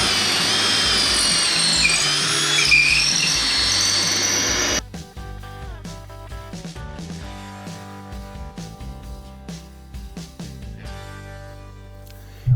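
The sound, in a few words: power drill driving lag bolt into newel post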